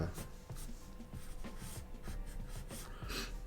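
A pen sketches a caricature on paper, giving close, soft, uneven scratching strokes in short bursts, with a few quieter pauses between lines.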